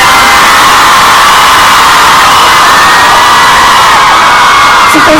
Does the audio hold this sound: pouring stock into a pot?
no